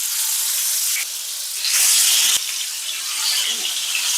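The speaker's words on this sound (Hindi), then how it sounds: "तो एक एक करके इसमें हम मछलियों को डाल के भून लेंगे।" Bhola fish pieces frying in smoking-hot mustard oil give a steady, close crackling sizzle that swells louder for a moment midway as more fish goes in, with a brief sharp tap, and no one talking.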